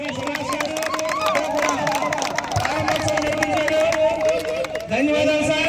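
An audience at a Bruce Lee birthday celebration claps and murmurs, a lively crowd din with scattered claps running under a steady tone of music or a loudspeaker, continuous and fairly loud.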